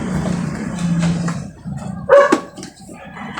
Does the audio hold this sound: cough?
no